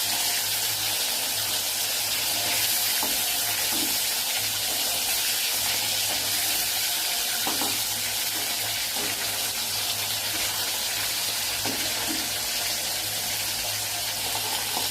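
Hilsa fish pieces fry in oil for shorshe ilish, a dense continuous sizzling hiss with a low steady hum underneath and occasional faint clinks, no one speaking.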